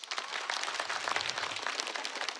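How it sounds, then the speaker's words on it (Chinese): A stand-up comedy audience applauds in a brief, dense burst of clapping that holds steady throughout. "鼓鼓掌，我听一下，有没有？"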